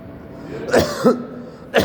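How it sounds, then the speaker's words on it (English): Three sharp coughs from someone sick with pneumonia, close and loud, spaced unevenly with brief pauses between them. "I'm so sorry, I'm coughing"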